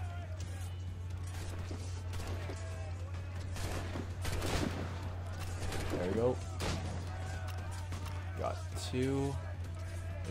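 Ship cannons in the naval battles of Assassin's Creed Rogue fire a few muffled booms and crashes over a steady low hum, while a person talks throughout.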